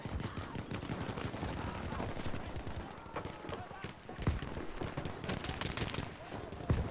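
Rapid gunfire from a Stuka dive bomber attacking a fighter plane in Battlefield V, dense crackling bursts running continuously over engine noise with a voice talking throughout.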